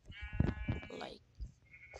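A sheep in a Minecraft-style video game bleats in a quick wavering cry, then gives a second shorter bleat, both fairly faint with low thumps around them.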